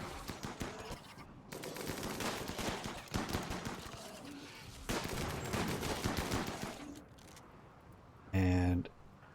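Rapid gunfire in the RimWorld colony game, dense crackling bursts of shots rattling on and off for several seconds at a steady loud level, ending with a short tonal burst.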